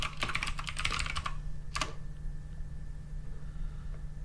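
A rapid burst of typing on a computer keyboard while entering a function in Excel, a quick cluster of clicks followed by a short second flurry, then quiet hum.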